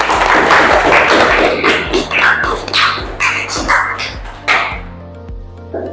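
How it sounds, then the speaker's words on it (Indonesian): A classroom of students clapping for their classmates, a loud, dense burst of applause that thins into scattered claps and fades out over several seconds. "Tepuk tangan sekali lagi untuk kalian"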